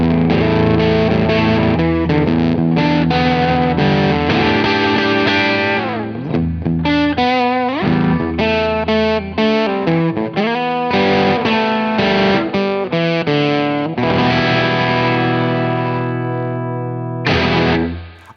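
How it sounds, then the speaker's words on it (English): KarenX fuzz pedal giving a vintage fuzz tone to an electric guitar, loud, saturated and distorted, with sustained chords and single-note lines played continuously and alone before the sound cuts off. "this is vintage fuzz tones"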